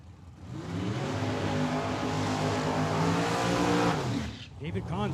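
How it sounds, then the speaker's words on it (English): A Corvette drag car does a burnout at Tucson Dragway, its engine roaring loud and steady with screeching tires for about four seconds before cutting off abruptly, with a voice briefly audible after. "David Kahn's extra spicy on the burnout here on the left-hand side"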